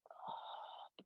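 A deep breath taken during an aikido warm-up stretch, reaching toward the feet: one long, steady, airy inhalation or exhalation close to the mic, then a short breathy puff after a brief pause.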